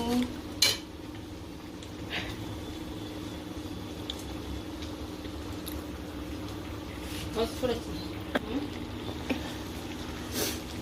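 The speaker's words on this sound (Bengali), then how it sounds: "এবার এর ভিতরে চিকেনগুলো অ্যাড করে দেব।" Chicken pieces dropped into a pan for restaurant-style chilli chicken, giving a few metallic clinks and utensil knocks over a steady low hum of cooking, close and fairly quiet.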